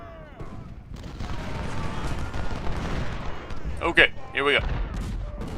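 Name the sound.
artillery fire in the video game Ultimate General: Civil War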